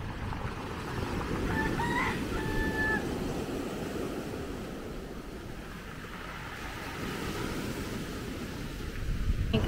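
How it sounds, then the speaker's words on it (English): A rooster's crow rises faintly above a constant rumble of surf and wind on a St Lucia beach, with soft chicken clucks in the distance. "Little chickens."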